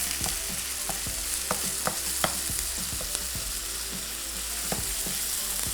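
Minced meat (keema) is fried in a pan and stirred hard, so repeated scraping strokes cut through a constant close sizzle, with no voices.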